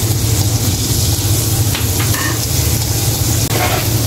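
Garlic sautéing in a pan for tuna pasta gives a steady close sizzle with low frying rumble, continuous throughout with a few brief stirring clicks and no talk.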